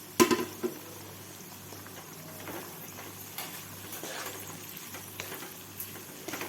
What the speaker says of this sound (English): I'm going to cook this for some time, saute it very well to mix with all the flavors